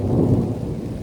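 Thunder rumbles loudly and continuously over steady rainfall in an empty park during a Texas storm, a deep rolling roar that fills the whole stretch with no voices.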